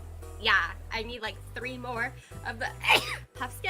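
A person gives a single sharp sneeze near the end of a chat while playing the mobile game Wizards Unite. It lands between stretches of casual talk and briefly stands out above it.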